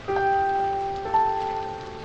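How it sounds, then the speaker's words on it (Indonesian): Heavy rain pours down in a steady, dense hiss that holds evenly through the whole stretch, with sustained musical tones ringing over it. "Lalu hujan turun dengan begitu deras."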